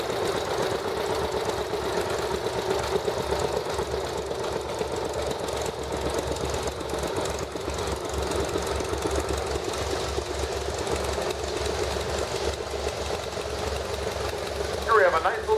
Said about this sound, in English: Here's a 1948 Farmall M, Eldon Pfaff out of Huntley.